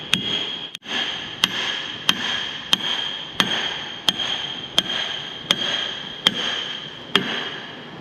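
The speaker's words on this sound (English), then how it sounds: "He's going to tap this head gland in." A short hammer taps a head gland into a hydraulic cylinder on an IH 175C crawler track loader, sharp metallic knocks repeating at a steady, even pace, close and distinct over a constant shop hum.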